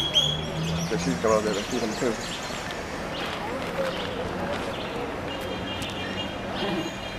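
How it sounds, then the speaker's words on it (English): Pigeons being fed in a park chirp and flutter faintly amid outdoor ambience, with people talking nearby. "We're going to feed the pigeons."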